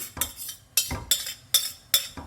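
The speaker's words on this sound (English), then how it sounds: "I'm simply going to drop in the cooked dal. Mix this all through nicely" Cooked green mung dal being mixed in a pan, about five distinct spoon scrapes and clinks against the metal at a steady pace, close and clear with no talking.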